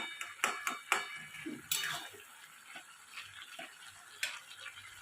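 Utensil stirring and mixing a Bengali bottle gourd and poppy seed dish with potatoes in a pan, heard as a run of soft scrapes and light clinks with a few sharper knocks, close and fairly quiet, with no talking.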